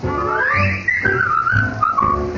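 A person whistles a bright, wavering melody up close, with notes sliding up and down in a continuous tune.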